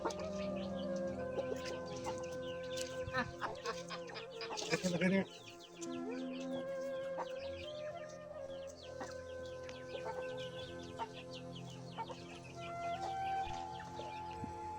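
Chickens with chicks, clucking and calling in a rural outdoor setting beside a forest, layered bird calls that run on throughout, with a brief louder jumble partway through and no speech over them.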